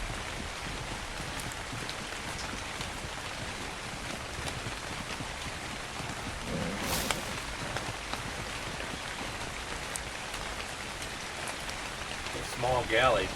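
Rain pours down in ARK on the Ragnarok map, a continuous broadband wash of drops that holds level throughout, with a brief brighter swell midway.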